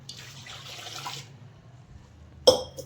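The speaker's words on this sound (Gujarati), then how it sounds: "મકાઈમાં પાણી ભરી દીધું." Water is poured into a pot of corn for boiling, a soft rushing stream that lasts about a second and then stops, followed by a brief sharp clink near the end.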